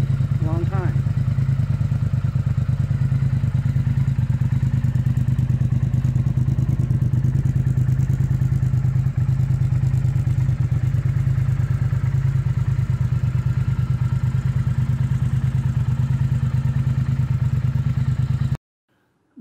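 A Triumph Thruxton R motorcycle engine runs at a steady, close idle, a constant low rumble with light mechanical clatter. It goes on unbroken for about eighteen seconds before cutting off abruptly.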